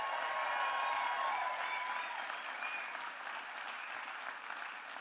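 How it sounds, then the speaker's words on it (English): A big audience at a political rally in Georgia breaks into sustained applause, a dense wash of clapping that carries on steadily for several seconds at fairly high volume with no talk over it. "Let's give a round of applause to Pastor Billy Smith and the Christ Chapel team."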